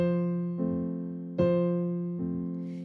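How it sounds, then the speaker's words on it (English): Piano playing two measures without an appoggiatura, with four sustained notes or chords struck one after another, each ringing and slowly decaying before the next. "Here's the both measures without the Appoggiatura."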